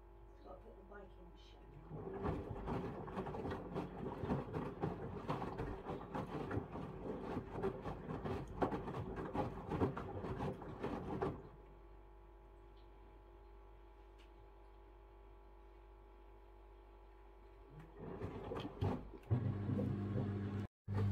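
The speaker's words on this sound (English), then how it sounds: "Showing you the washing machine on the rinse stage." Samsung Ecobubble washing machine in its rinse stage, with a busy stretch of churning, clicking and sloshing drum movement that drops to a quiet low hum midway before the motor picks up again near the end.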